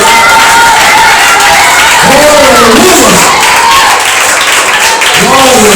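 A church congregation claps and cheers in praise, a loud, dense crowd noise with voices shouting and singing over it throughout.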